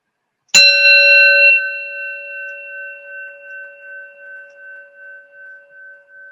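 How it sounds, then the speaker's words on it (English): A meditation gong is struck once, loud and close, then rings on in a long, slowly fading, gently pulsing tone that lasts for several seconds, with no voices over it. "I'll chant the sound the gong. Become one with the sound."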